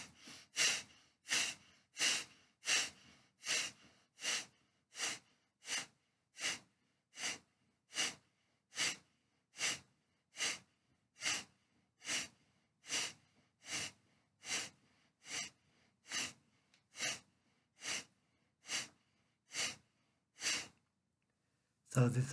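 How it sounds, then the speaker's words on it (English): Bhastrika Pranayama, a rapid breathing exercise: about twenty-five forceful, evenly spaced breaths rush in and out at a quick, steady rhythm, close and clear with no talking. "repeat 20 to 30 times this Bhastrika Pranayama. It is said to be a good pranayama breathing exercise for lungs, for respiratory system."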